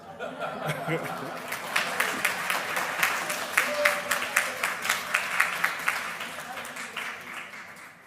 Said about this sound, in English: A round of applause, please, one more time for Dr. Kevin Castle.